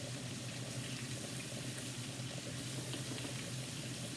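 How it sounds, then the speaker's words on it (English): Tap water runs in a steady, dense rush while a chopping board is washed in a kitchen sink, continuous and close throughout. "So let me wash off my chopping board."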